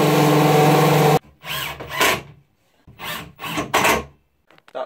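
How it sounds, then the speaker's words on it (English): A power drill fitted with a countersink bit drives a screw into a wooden sledge: one loud sustained run, then several short, close bursts of whirring and grinding separated by pauses. "Switch the drill bit for a deburrer. It means the head of the screw can go right into the wood."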